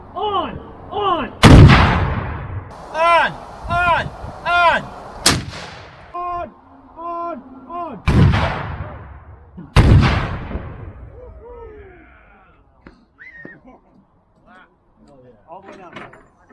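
A 6-pounder anti-tank gun loaded with black powder blanks fires four loud, booming shots with long echoing decay, interleaved with shouted crew commands between rounds.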